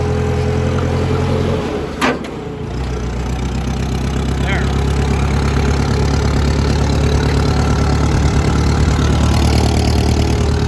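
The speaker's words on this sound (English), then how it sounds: "I'm just going for a spin on a forklift down the road" A forklift engine runs with a steady low drone while driving down a farm road, with a brief knock early on and the engine note rising slightly toward the end, with no speech.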